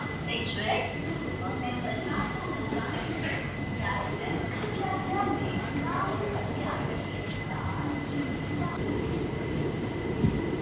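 The 17418 Shirdi–Tirupati weekly express pulls out of Kadapa station, its steady rolling rumble close and continuous for the whole stretch, with faint voices in the background.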